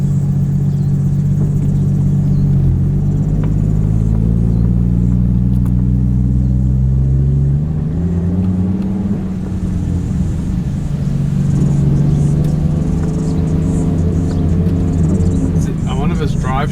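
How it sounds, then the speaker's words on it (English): A Nissan 180SX on its first drive in six months gives off a steady low drivetrain rumble and engine drone. The noise rises and falls slightly with speed, and the driveline whine points to a possible bearing fault. "So the gearbox is making a lot of noises"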